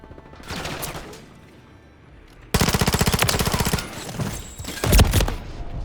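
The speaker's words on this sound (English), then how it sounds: "Someone else is shooting." Gunfire in the Call of Duty Modern Warfare 3 video game: rapid automatic bursts rattle loudly and close, with a sharp heavier crack near the end and no talking.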